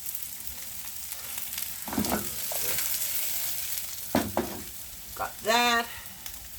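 Steak and mushrooms frying in a pan, a soft, steady sizzle with a few clatters of utensils, while a voice talks briefly twice over it.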